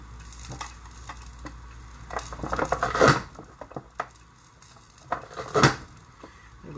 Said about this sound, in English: I think I'm going to chop this in half